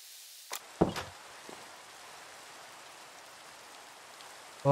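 Rain in the Minecraft video game makes a soft, steady hiss throughout, with a couple of sharp knocks near the start and a thump at the end.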